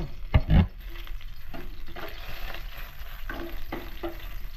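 Garlic sizzles and fries in a pan, a steady crackling hiss broken by a few louder stirring clatters near the start, with no talking.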